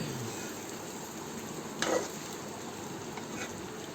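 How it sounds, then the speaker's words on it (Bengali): Potatoes fry in oil with no water added, a soft, continuous low sizzle heard close up, with a single brief scrape of a spatula partway through. "তো দেখতে পাচ্ছেন আমার আলু ভাজাটা কিন্তু কি সুন্দরভাবে হচ্ছে, এক ফোঁটাও কিন্তু পানি দিই নাই।"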